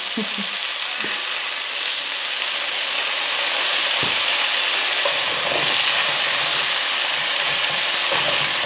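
Brisket sizzles and crackles in hot oil, a loud continuous frying hiss with occasional pops and light stirring clicks, close up and steady throughout.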